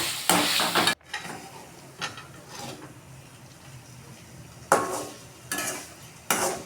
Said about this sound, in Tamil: கட் பண்ணி முட்டையெல்லாம் எடுத்து கடாயில் போட்டுக்கலாம்.